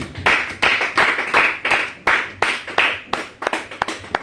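A church congregation claps in praise, about a dozen loud, fairly regular hand claps in a steady rhythm close by, with no talk over them.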